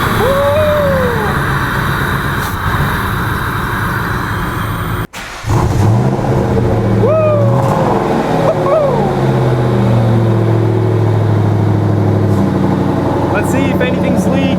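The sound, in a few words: Ford Mustang Mach 1 engine running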